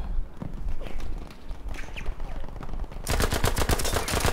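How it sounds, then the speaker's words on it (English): Gunfire in the video game Battlefield V, scattered shots at first, then a dense burst of rapid automatic fire during the last second or so, loud and close. "Where am I getting shot from?"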